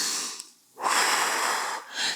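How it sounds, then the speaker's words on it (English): A big, deep breath drawn in during a Pilates core workout, heard alone and close: a long, loud, airy inhale that lasts over a second, after a short sniff and a brief pause. "you wanna breathe in big, like."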